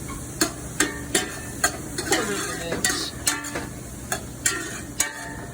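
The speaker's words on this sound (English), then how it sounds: "Gonna fry that up over high heat." Sliced mushrooms frying over high heat in a pan, a low sizzle under a regular series of sharp utensil taps and scrapes roughly every half second, close and clear.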